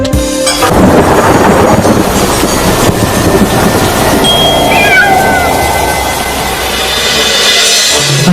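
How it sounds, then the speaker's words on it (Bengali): A cartoon cat gives a few short, wavering meows midway through, fairly faint against a dense, rumbling, train-like background. "আরে বিড়ালের ডাক শুনলাম মনে হলো।"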